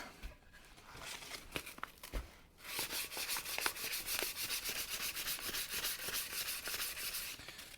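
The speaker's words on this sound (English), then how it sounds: "I'm using 220 grit sandpaper on this part here to give it that real smooth sanding finish" A custom Fender Mustang guitar body sanded by hand with 220 grit sandpaper. Rapid, rhythmic rasping back-and-forth strokes sound close up. They are sparse and uneven at first, then settle into a steady, dense scrubbing for the rest of the clip, with no talk.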